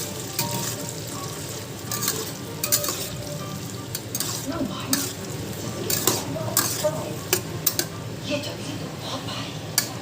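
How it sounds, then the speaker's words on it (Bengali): Chopped onions drop into hot oil in a pan and fry with a loud, continuous close-up sizzle. Light scraping and stirring clatter sounds over the top at intervals. "এবার আমি এখন এটার মধ্যে কেটে রাখা পেঁয়াজগুলো দিয়ে দেবো"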